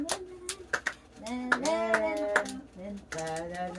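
A few scattered hand claps at a family celebration for one-month-old twins, sharp isolated slaps spaced irregularly, with adults talking and singing in a home setting.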